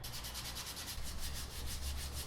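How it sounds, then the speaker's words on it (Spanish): Continuous rhythmic rubbing of sandpaper on a bicycle frame, close and steady, with quick regular back-and-forth strokes and no voices. "Ahora lo que queda es lijar todo el cuadro."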